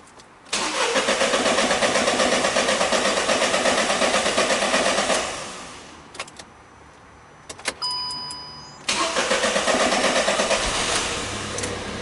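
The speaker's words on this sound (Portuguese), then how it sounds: "vamos dar partida no carro, né? Ele vai demorar um pouquinho pegar até os bicos encherem" Volkswagen Up car engine cranking to start after an oil service, a loud, steady buzzing crank for several seconds, a brief pause with faint clicks, then a second loud cranking burst, with no talk.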